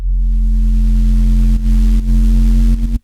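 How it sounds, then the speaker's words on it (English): A synth bass patch built in Serum 2 holds one long, steady droning note with no rhythm, loud and continuous, with a few brief dips before it cuts off. "We've just got one long droning bass line."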